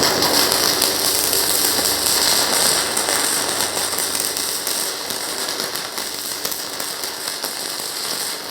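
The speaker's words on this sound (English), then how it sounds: "So now we're going to try to weld with the stick, and we're going to weld 3mm thick steel" An inverter TIG/MMA welder stick welds 3mm thick steel with a 2.6mm electrode at about 90 amps, giving a continuous close crackling and sizzling hiss that stays steady throughout.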